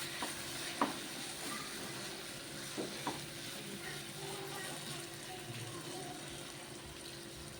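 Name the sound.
stirring spice masala in a frying pan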